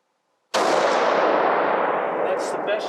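A single close, loud gunshot from a rifle fired at a target, a sudden sharp blast with a long rolling decay, followed by faint voices.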